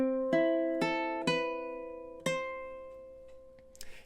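Ukulele plucking measures 9 and 10 of a song, four bright ringing chord strikes in slow succession with sustained decay, played alone and close.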